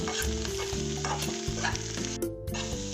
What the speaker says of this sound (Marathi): आता हे छान एकदा हलवून घेऊ